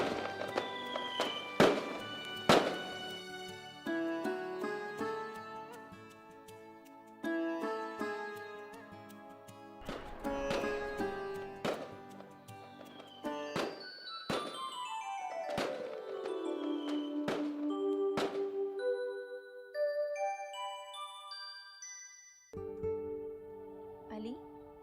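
Fireworks go off on Shab-e-Barat night: sharp bangs and crackles come in irregular bursts, with descending whistles from rockets mixed in. Voices are heard among the explosions.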